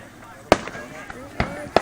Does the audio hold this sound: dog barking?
no